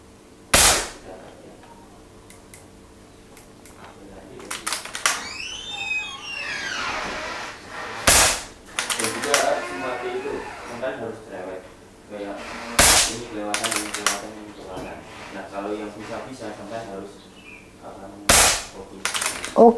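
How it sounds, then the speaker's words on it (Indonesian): An FX Impact M4 PCP air rifle fires at metal silhouette targets, giving four sharp, spaced cracks roughly every five seconds, each followed by ringing metallic pings, with people talking quietly in between. "Kita akan lihat untuk next di seru-seruan nembak metal siluetnya nih."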